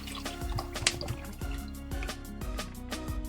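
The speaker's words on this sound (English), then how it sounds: "I put 3 bottles of water for the meantime." Water poured from bottles into a cooking pot of chicken arroz caldo rice porridge, a steady liquid trickle with repeated glugging surges and a few drips, close and fairly quiet.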